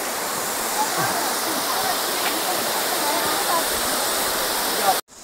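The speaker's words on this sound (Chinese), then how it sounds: "我哋喺瀑布度上" A waterfall in the hills of Zengcheng, Guangzhou roars as a steady, close, full-bodied rush of falling water that continues unbroken until it stops abruptly just before the end.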